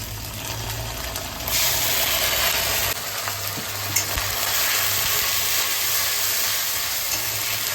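Ginger, cumin and chilli spices sizzle steadily in a hot frying pan, a continuous close frying hiss that swells partway through, with a light clink near the middle and no voices.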